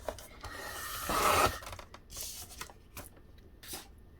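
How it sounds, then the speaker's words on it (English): Paper for a seaside-themed file folder craft journal is trimmed with close, dry rasping cuts and rustles, one longer swipe followed by several shorter scrapes. "And I'm going to trim on that side, the left."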